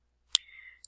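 A single sharp computer mouse click, close and quiet, with a faint second tick a moment later against near silence.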